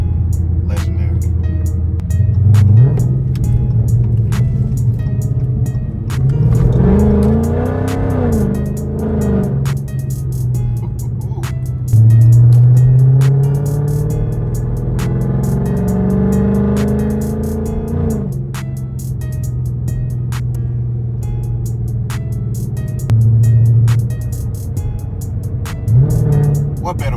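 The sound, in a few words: Dodge Charger with strut brace driving on back roads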